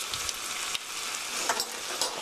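Tomato stew with a tablespoon of white sugar stir-fries in a pan, giving a steady close sizzle with a few soft stirring scrapes and no voices.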